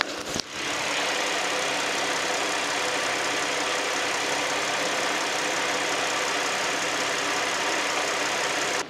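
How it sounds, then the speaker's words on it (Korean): A Hyundai Grandeur IG LPG car engine idles smoothly and quietly for several seconds, a steady even hum recorded up close at the open engine bay with no one talking. "엔진 소리 한번 들어볼게요"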